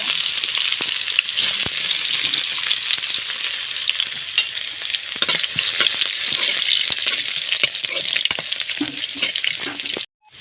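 Bay leaves, garam masala and chopped garlic fry in hot oil, giving a steady, close, loud sizzle with scattered crackles and soft scrapes that runs for about ten seconds and then stops abruptly.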